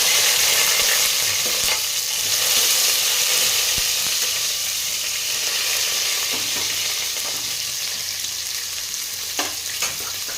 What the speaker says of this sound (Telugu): ఇప్పుడైతే ఆనియన్ వేసుకుంటున్నాను